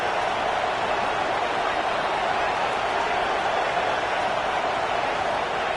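Steady broadband roar of a football stadium crowd building on a third-down play late in the game, loud and continuous for the whole stretch with no distinct voices standing out.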